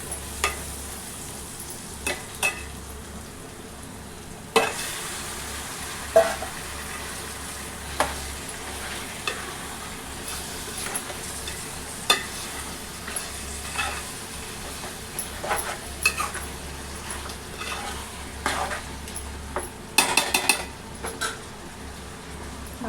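Mutton frying in a pot, sizzling steadily while a metal spoon stirs and scrapes against the sides, clinking at irregular intervals, close and fairly loud throughout.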